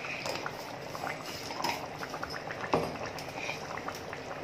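Mutton curry bubbling in a kadai with hot water, a steady soft simmer of popping bubbles and liquid patter at moderate level, with no voices over it.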